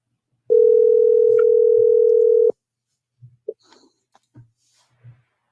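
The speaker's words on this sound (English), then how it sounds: "Can you hear the phone ringing?" A single long electronic phone ring tone sounds for about two seconds, followed by faint scattered clicks and quiet noises.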